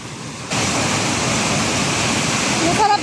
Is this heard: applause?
no